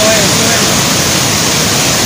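A swollen river beside a damaged mountain highway rushes in a steady, loud, dense roar of turbulent water, continuous throughout and heard close by.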